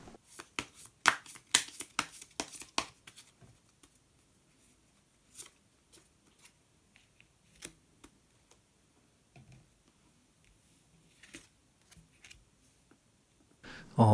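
Tarot cards shuffled by hand before one is drawn: a quick burst of crisp riffling clicks at the start, then sparse light taps and slides, close and quiet, with no voices.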